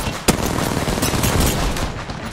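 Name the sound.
gunfire in a video game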